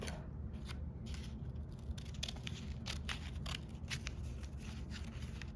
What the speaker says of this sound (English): I'm going to cut right along this crease to the very top